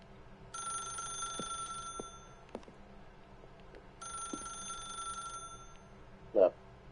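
A telephone rings in the video game The Stanley Parable, two distinct bursts of bright trilling bell separated by a pause, fairly quiet, followed by a brief thump.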